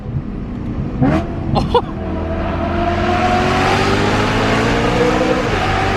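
A powerful 600 hp supercharged V8 engine in an E92 BMW M3 revs hard in a few sharp bursts, then settles into a loud, sustained rising roar close by.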